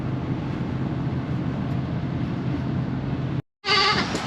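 A steady vehicle engine rumble fills most of the clip, then after a brief silence a loud, near goat bleat bursts out at the end.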